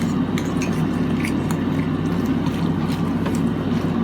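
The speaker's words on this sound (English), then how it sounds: "And then we're going to give everything a mix together." A salmon patty mixture with egg, onion and herbs being mixed in a bowl, giving steady clinking and scraping of a utensil against the dish.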